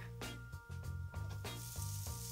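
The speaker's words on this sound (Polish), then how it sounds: "Patelnia rozgrzana, wrzucamy boczek." Bacon dropped into a preheated frying pan, sizzling softly with repeated clinks and scrapes of handling, close and quiet.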